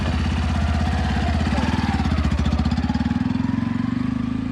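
A motorbike engine runs close by, putting out a steady, rapid pulsing thump at an even idle-like rhythm throughout, loud and alone with no talk over it.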